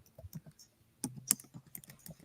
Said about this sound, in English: And I'm typing this in for you guys just in case